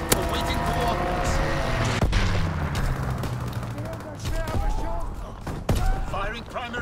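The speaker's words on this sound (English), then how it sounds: "Firing primary battery." Artillery battery firing in Call of Duty: WWII, a dense, continuous barrage of heavy booms and gunfire with sharp blasts near the start and end, under radio-style voices giving orders.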